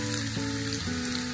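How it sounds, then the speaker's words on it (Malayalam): Sliced onions fry in a tablespoon of coconut oil in a hot pan, giving a brief, steady, close sizzle with no talking. "1 ടേബിൾ സ്പൂൺ വെളിച്ചെണ്ണ ഒഴിച്ച് കൊടുത്തിട്ടുണ്ട്. ഇതിലേക്ക് സവാള ഇട്ട് കൊടുക്കുക."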